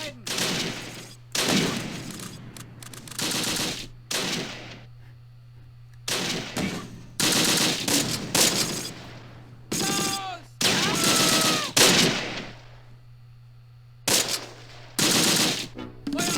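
Repeated bursts of gunfire and 2-centimeter flak from the World War II tactical game Close Combat, with tank hits mixed in. The volleys come in loud, uneven clusters broken by brief quiet gaps.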